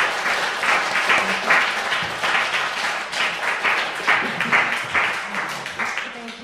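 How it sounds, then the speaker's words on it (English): Audience applause closing a panel discussion on politics, steady dense clapping from a crowd that holds at a loud level throughout with slight swells, no speech over it. "Big round of applause."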